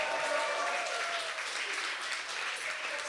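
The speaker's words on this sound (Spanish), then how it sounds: "un aplauso grande por el tiempo que se dieron" Audience applause at a panel talk, a dense continuous roar of many hands clapping, fairly loud and steady throughout, with faint voices underneath.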